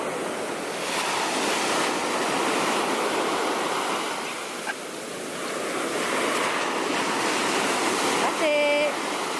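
Small ocean waves wash steadily onto a pebbly beach at Porto, a continuous close surf rush with some wind, ending in a brief high tonal sound.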